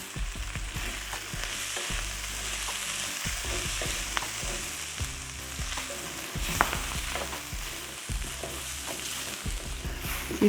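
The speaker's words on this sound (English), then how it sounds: "Give it a stir. I'm also going to add another tablespoon of the curry powder." Curry powder and ginger sizzle and fry in a pan for a Polynesian chicken curry casserole, with a spoon stirring and scraping in an irregular rhythm over a constant, close crackle.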